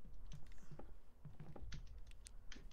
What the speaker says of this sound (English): I hear his keyboard clicking